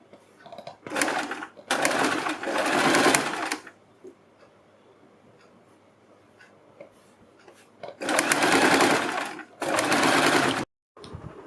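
A sewing machine stitches the neck fabric of a kurti in loud, steady whirring bursts, two runs of several seconds each separated by a quiet pause, close up with no talking.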